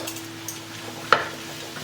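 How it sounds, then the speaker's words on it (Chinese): Radish goes into a wok already fragrant with stir-fried shiitake, dried shrimp and dried scallops, giving a faint low sizzle and a single sharp scrape of the spatula against the pan partway through. "全部炒香了之后，就可以把萝卜放进来翻炒"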